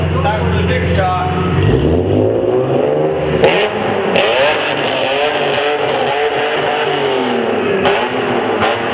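BMW M3 with a titanium Group M exhaust revving hard, the engine note sweeping up and down through several loud blips with clattering mechanical noise, people talking nearby.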